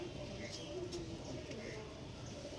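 Pigeons, a pair of female birds among a loft of Star Kalanka and Aparajita fancy pigeons, cooing softly in low repeated murmurs over steady background noise and faint voices.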